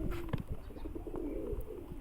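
Pigeons coo near the loft as they return, low soft rolling coos repeating over a couple of seconds, close and alone.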